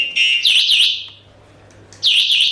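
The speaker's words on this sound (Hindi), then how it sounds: "इस की से लॉकिंग करने के बाद एक तो सायरन कंटिन्यूस बज रहा है" A shrill electronic anti-theft alarm on an electric scooter warbles in short, rapid chirping bursts, with a brief pause before it starts again, loud and close.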